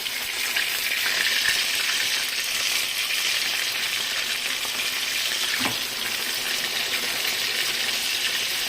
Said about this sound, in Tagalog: piniprito po na natin yung pork chop